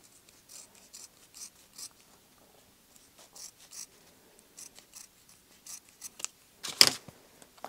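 Scissors snip through a scrap of fabric for a collage envelope in a run of short, soft, close cuts, ending with one louder final snip.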